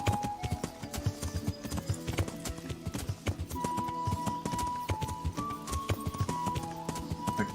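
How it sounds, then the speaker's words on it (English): A horse in the medieval role-playing game Kingdom Come: Deliverance clip-clops steadily throughout, with a possible brief whinny, all beneath continuous game music. "O cavalo dele tá aqui ainda, inclusive."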